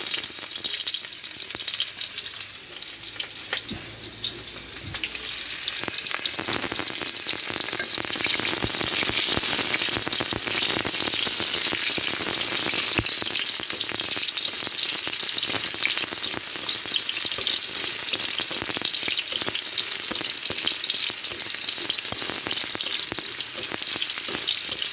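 Chopped onion hits hot oil in a pan while making grass carp fish with potatoes, starting a loud, dense, continuous hissing sizzle that swells after a brief dip and holds steady, close up and unbroken.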